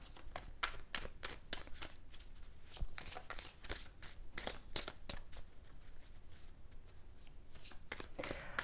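Tarot cards are shuffled close up, a steady run of quick riffling flicks and papery slaps that repeats through the whole stretch with no voices over it.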